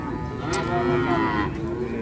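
A cow moos loudly and close by at a busy cattle market, one long drawn-out low call over the murmur of the crowd and the surrounding market noise.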